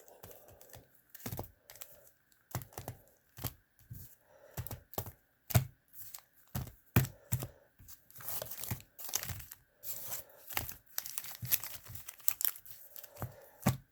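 Pokémon cards being shuffled by hand, a run of sharp papery riffles and flicks with crisp rustling, close and fairly quiet, coming in irregular bursts with short pauses.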